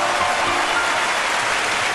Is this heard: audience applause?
yes